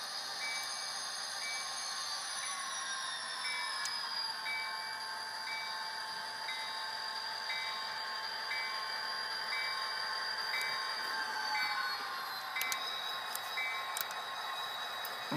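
A Bachmann HO scale SD40-2 model locomotive with a freight train runs steadily along its track, a continuous mechanical whir and rattle with faint squeals, holding an even level throughout.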